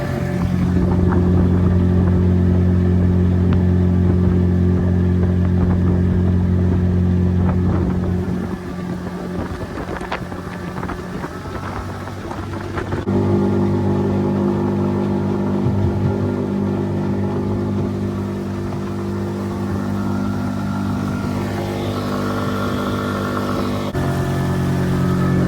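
An outboard motor drives a stretched skiff at an easy cruise of about 13 miles an hour, with a loud, steady droning hum that eases back on the throttle partway through, mixed with wind rush.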